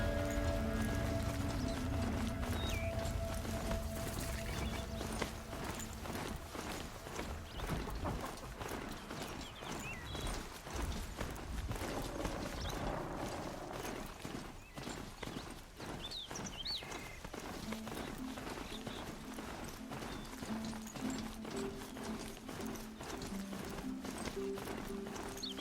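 Hoofbeats of a mount in Horizon Zero Dawn's Frozen Wilds, a steady clip-clop gallop running throughout, joined by a brief whinny and faint bird calls over game music.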